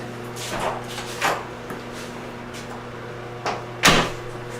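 Interior door opened and shut after its hinges were adjusted to fix the reveal: a few soft wooden bumps and latch clicks spaced over several seconds, ending in one sharper closing knock, no talk.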